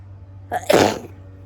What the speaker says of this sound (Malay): Sekejap bersin.